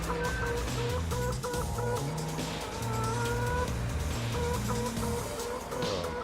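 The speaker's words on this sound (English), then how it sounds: "Suicidal chickens." Farm chickens cluck over a constant loud mechanical drone, their short calls repeating irregularly throughout.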